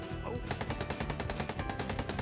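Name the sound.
gunfire in SCP video game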